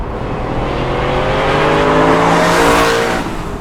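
A Lamborghini Silhouette P300 V8 sports car driving, its engine droning loudly and steadily with a rising note as it accelerates close by, alone without talk.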